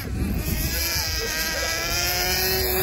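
A Serpent SRX8 nitro RC buggy engine runs at high revs, a steady, buzzing whine held throughout at fairly constant loudness with wind noise.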